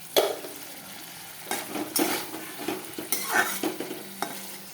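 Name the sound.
spiced potato and pointed gourd sautéing in a pan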